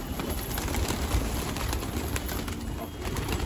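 Flock of pigeons flying over a rooftop at night in a pigeon-flying hobby session, a steady rushing wash of wingbeats and air noise with faint coos, continuous and fairly close.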